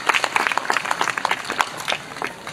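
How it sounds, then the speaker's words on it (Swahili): An audience gives a brief burst of applause for Wallace Karia at a speech, sharp individual claps close by, fairly loud for a couple of seconds. "Makofi kwa Wallace Karia."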